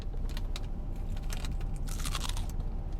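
A crunchy Crunchwrap Supreme with a flattened hard taco shell inside is bitten into and chewed, giving a close, loud, continuous crackling crunch for about three seconds with no talking.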